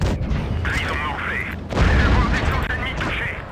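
Deep tank cannon booms from World of Tanks Blitz, with a heavier blast midway, sounding under steady talk and game background noise.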